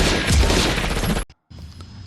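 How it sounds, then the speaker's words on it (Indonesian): Gunfire from a crowded party scene in the film The Mask, a dense loud fusillade of rapid shots lasting over a second, then a short gap and a quieter burst with reverberant noise. "Kekisruhan terjadi saat orang-orang Dorian mulai menembakkan senjatanya."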